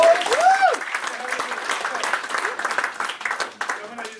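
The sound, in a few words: audience applause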